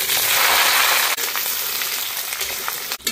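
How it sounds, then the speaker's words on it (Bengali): Loud, close sizzling of potatoes frying in mustard oil in a wok until reddish, a dense crackling hiss throughout with a couple of sharp clanks from stirring. "ডিম ভাপার জন্য আলুটা লাল লাল করে ভেজে নেব।"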